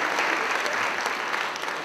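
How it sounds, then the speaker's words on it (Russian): Audience applause at a Russian speech festival for foreign students in Voronezh, a steady, dense crowd clapping that stays loud and even throughout with no voices over it. "Аплодируйте громче, они вас слышат, друзья."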